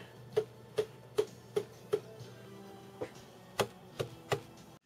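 Sharp taps on the hard plastic and metal housing of an ADJ Mega Tripar Profile LED par can light, about ten evenly spaced knocks, close and fairly quiet, with a low hum underneath.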